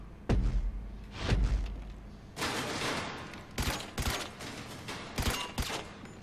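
Rapid gunfire bursts from shooting in Grand Theft Auto V, starting with heavy thuds and then loud repeated volleys of shots in clusters, with no talking.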